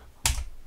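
A single sharp click of the middle button on a Gigabyte M6980X computer mouse, close and fairly quiet, with a brief tail and no voices.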